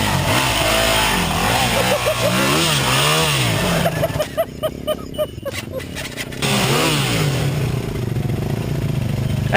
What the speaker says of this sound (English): Jason racing up the hill on his WR450.